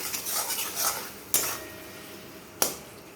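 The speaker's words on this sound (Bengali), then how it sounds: "একসাথে সব কিছু খুব ভালো করে নাড়িয়ে নিলাম।" A spoon stirs spices with salt and turmeric in a pan, scraping and rattling in a busy burst at first, then two sharp metallic knocks against the pan's edge, close and clear with no talking.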